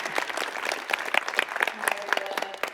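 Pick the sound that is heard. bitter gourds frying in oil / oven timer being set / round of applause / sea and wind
round of applause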